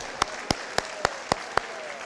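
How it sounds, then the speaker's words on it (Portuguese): A church congregation claps in praise during a Portuguese-language service, six sharp, evenly spaced claps in a steady beat, faint and somewhat distant against a quiet room. "Vamos aplaudir o Senhor, irmãos"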